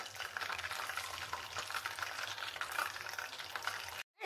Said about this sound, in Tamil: ஸோ இப்போ நம்ம நெக்ஸ்ட் ரவுண்ட் போட்டு பொரித்து எடுத்துடலாம்.